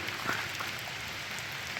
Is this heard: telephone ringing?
no